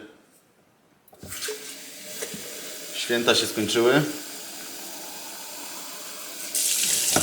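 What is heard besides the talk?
water pouring into cooking bowl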